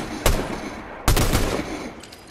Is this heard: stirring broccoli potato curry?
no